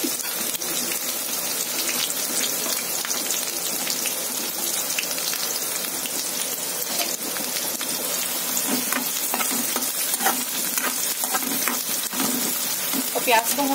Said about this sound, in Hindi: प्याज को हम बस हल्का गुलाबी सा करेंगे जब तक ये गुलाबी होता है।